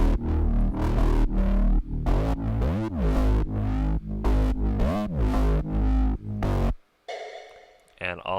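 Layered synth bass line in Logic Pro X, with a thick, buzzing tone and rhythmic pitch swoops, playing loud and steady before cutting out into a short, thin synth tail.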